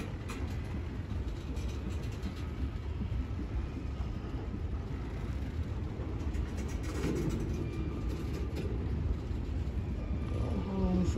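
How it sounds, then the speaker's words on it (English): A westbound Norfolk Southern intermodal freight train approaching on track one of the Chicago Line, a steady distant rumble gradually building with faint wind and background noise. "We got a westbound coming on track one. Intermodal on the way."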